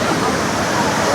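Kuang Si waterfall in Laos roars as a steady, dense wash of rushing water, loud and continuous, with a voice speaking faintly underneath.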